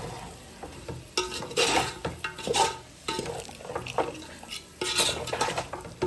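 Chicken fry being stirred and tossed in a pan at home, with repeated scraping and clattering of a metal spoon against the pan over a soft sizzle, in bursts of clinks and scrapes.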